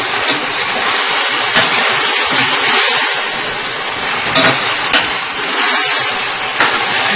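Chicken wings with soy and oyster sauce marinade sizzle loudly in a hot stir-fry pan, a dense continuous hiss broken by occasional scrapes as pieces are turned.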